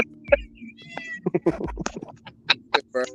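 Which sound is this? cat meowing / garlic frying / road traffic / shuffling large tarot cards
cat meowing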